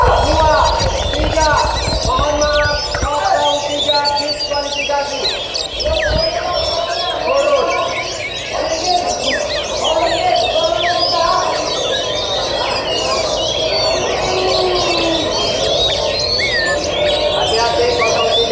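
An oriental magpie-robin (kacer) sings a busy stream of chirps and whistled phrases throughout, mixed with other birds at what sounds like a songbird contest, over steady background noise and chatter.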